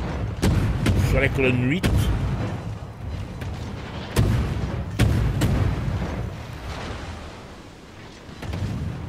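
Heavy booming naval gunfire in World of Warships, several deep blasts spaced apart while someone narrates in French over them.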